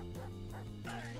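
An angry dog in a video game barks and yips, a few sharp whining barks in quick succession over a steady background tone, fairly faint and with no talk.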